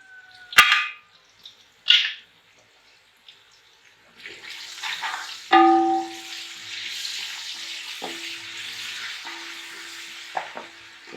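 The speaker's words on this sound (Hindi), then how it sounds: "प्याज फ्राई हो रहा है" Onion and ginger fry in a pan: a couple of sharp utensil clinks open, then a steady close sizzle begins with spoon scrapes and metallic taps against the pan over it.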